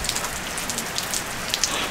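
Rain falls steadily outdoors on a ranch, a dense continuous hiss of drops with scattered louder patters on nearby surfaces.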